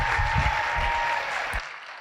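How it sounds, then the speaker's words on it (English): Conference audience applauding after a keynote speech, a steady, even clatter of many hands throughout, tapering off at the very end. "All right, let's give them one more round of applause."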